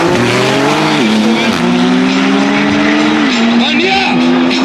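A Golf 7R drag racing a Porsche 911 Turbo S over 400 meters at a drag strip, loud engines roaring close by and climbing through several gear changes, with a commentator talking over them.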